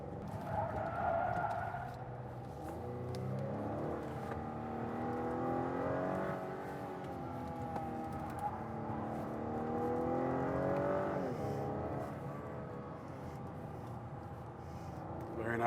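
A 2021 Acura TLX SH-AWD driving on winding canyon roads, its engine note rising and falling through the turns as a steady, moderate drone inside the cabin, with a voice talking over it.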